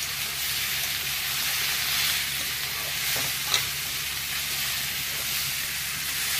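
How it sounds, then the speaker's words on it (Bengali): Mourola fish frying in a pan for a Bengali chachchari, giving a steady close sizzle with faint stirring clicks throughout and one brief sharp tap partway through, with no talking. "একটু ভেজে নিই।"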